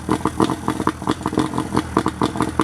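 A 1988 Mariner 40 HP outboard boat motor runs close by with a loud, rapid, uneven chugging pulse, a rough clattering idle that keeps steady throughout.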